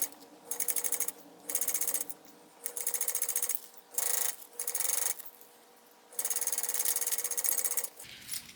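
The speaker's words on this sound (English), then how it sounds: "I'm going to top stitch this side seam here" A sewing machine stitches a backpack side seam in several fast, close bursts of rapid mechanical clatter separated by short pauses.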